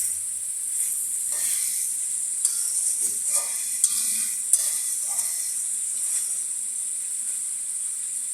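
Fish pieces being sautéed in a pan for a ridge gourd fish curry give a soft, steady sizzle broken by several scraping stirs and a few sharp spatula knocks, heard close with no talking.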